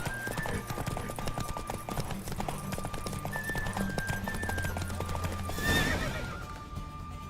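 Rapid hoofbeats clatter steadily from a galloping horse in The Witcher 3: Wild Hunt, with a horse whinnying partway through over a continuous rumbling game soundtrack.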